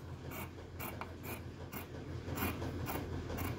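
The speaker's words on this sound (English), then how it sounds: "Cut that off" Scissors cutting off the seam of a t-shirt, a series of quiet, regular snipping crunches through fabric, close up with no talk.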